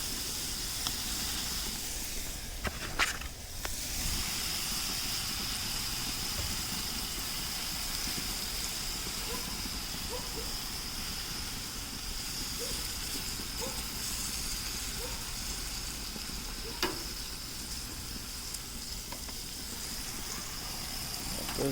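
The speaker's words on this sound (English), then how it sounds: "Let those things sizzle." A steady, close sizzling hiss of food frying in butter runs throughout, broad and even, with a few faint clicks and pops scattered in it.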